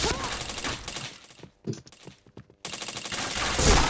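Gunfire in a shooter video game lands as short bursts of shots that stop for a moment and then start again, loud and close, mixed with faint game noise.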